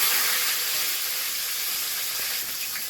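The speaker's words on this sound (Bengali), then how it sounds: "শুকনো লঙ্কা তেলের মধ্যে তেজপাতা" Dried red chillies and bay leaves sizzle in hot oil in a home kitchen, a steady, close, loud hiss that holds evenly throughout with no talking.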